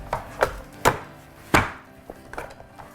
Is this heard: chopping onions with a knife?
yes